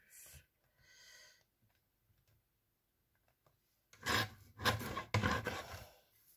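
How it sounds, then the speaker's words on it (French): Scissors cut through paper card while a greeting card is trimmed down, a few faint snips at first, then a closer, louder run of rasping cuts near the end. "Donc, je vais découper un petit peu parce qu'il me paraît très grand."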